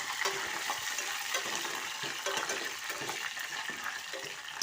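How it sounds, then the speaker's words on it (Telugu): Curry leaves sizzle and fry in hot oil for a tempering over a switched-off stove, a steady crackling hiss heard close and alone throughout. "ఆ వేడికి ఈ కరివేపాకు రెబ్బలు అనేవి కూడా వేగిపోతాయి."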